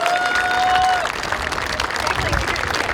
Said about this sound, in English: If everybody can give him an enormous round of applause.